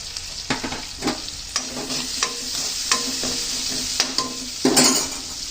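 Tomatoes and turmeric fry in oil for churumuri, a steady close sizzle broken by repeated clinks and scrapes of a metal spoon against the pan, with no voices.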